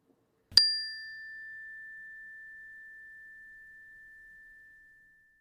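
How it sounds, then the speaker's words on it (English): A meditation bell struck once, a clear bright ding that rings out and decays slowly over several seconds into silence, alone with no voices. "at the sound of the bell, transitioning at your own time"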